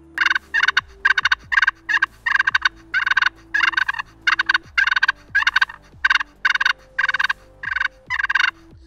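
Turkey fighting purrs drawn slowly on a Strike A Strut pot call ring out in about fifteen even, rattling bursts with short pauses between, close and clear with no talk.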